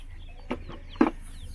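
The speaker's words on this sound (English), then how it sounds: "Remember, that's not our chicken." A neighbor's chicken gives two short clucks, the second louder and closer, over a low steady background hum with no talk.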